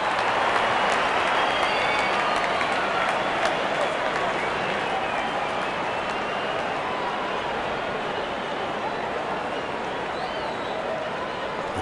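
A cricket crowd at an India versus Nepal match cheers and applauds in a continuous dense roar of clapping and voices, steady and fairly loud for the whole stretch, with commentary speech over it.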